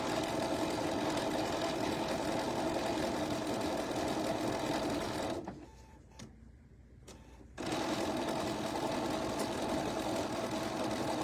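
Sewing machine running steadily while stitching fabric with a messy-style stitch, a continuous mechanical hum that pauses for about two seconds midway as the fabric is lifted and pivoted, then resumes.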